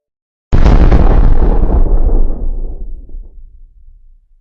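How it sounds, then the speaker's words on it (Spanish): A single massive explosion from the Chelyabinsk meteor bursts in abruptly, loud and broadband, then rumbles and slowly decays over several seconds with no voices. "La energía liberada por la explosión generó una onda expansiva tan potente"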